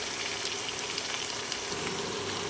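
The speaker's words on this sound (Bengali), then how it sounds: "আলুগুলো ভাজা হয়ে এসেছে" Potatoes frying until browned in a pan of oil with whole spices give a soft, even sizzle, close and unbroken, heard alone.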